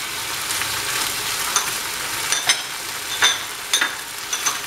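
Chopped capsicum sizzles in a hot pan as it is stir-fried, with a steady hiss and several sharp scraping stirs spaced unevenly throughout.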